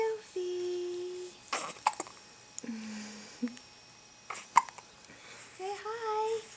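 A baby girl, awake, gives several short, soft hiccups spaced a couple of seconds apart, heard close up while someone talks and coos to her in a high, gentle voice.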